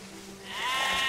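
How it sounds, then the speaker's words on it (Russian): Sheep bleating in the video game Valiant Hearts, a single drawn-out wavering bleat rising over a quiet background hum. "Так, овцы."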